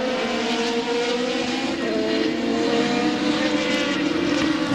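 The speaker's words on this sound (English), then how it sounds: "Werdheim taking a bit of rubber off the front tires there as he brakes for turn 1" Formula 3000 race car with a Lola chassis and Zytec engine braking hard into turn 1, locking the front Avon tires; a loud, steady engine tone with shifting pitch fills the scene, no talk.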